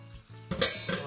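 Potato and cherry tomatoes cooking in a covered pan, a quiet low simmer that flares into a louder hissing sizzle with a couple of bursts and a clink of pan or lid.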